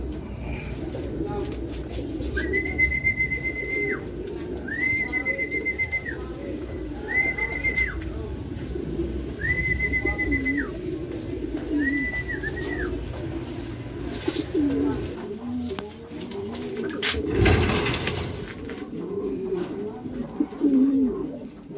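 Racing pigeons coo softly and repeatedly in the background at a derby race arrival in San Andres, Quezon, while a steady tone beeps in short bursts and a voice talks intermittently.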